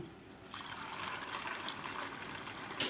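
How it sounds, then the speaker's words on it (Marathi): Water is poured into a pan of chickpeas being prepared for crispy roasted futane, giving a soft trickle that swells into a close, steady gushing pour. "आता आपण ह्याच्यामध्ये ओतायचं आहे पाणी"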